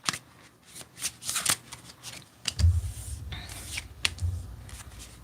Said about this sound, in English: let's get two more shuffles here